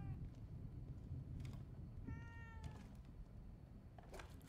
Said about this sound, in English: Hey, Kitty Cat.